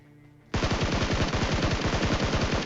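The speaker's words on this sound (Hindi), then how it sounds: "तो मैं यहाँ पे आता हूँ जहाँ से पीछे से कहीं ना कहीं फायरिंग हो रही थी।" Rapid automatic gunfire in a battle royale video game bursts in loudly after a moment of quiet, a fast, steady stream of shots continuing without pause to the end.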